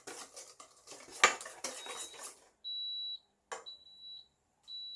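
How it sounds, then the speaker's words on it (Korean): A waffle maker gives a series of short, clear electronic beeps as it finishes heating, preceded by clinking of utensils and bowls close by. "와플 메이커에서 삐 소리가 5번 나면 지금 반죽을 넣어도 된다는 표시입니다"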